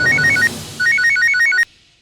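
A phone ringtone plays loud and close in a comedy drama scene: two bursts of a fast, bright electronic trill, briefly interrupted, then cut off abruptly into silence.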